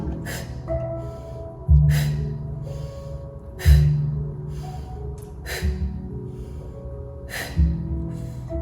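Breathing exercise breaths recur about every two seconds, each a sharp audible inhale or exhale, over soft background music.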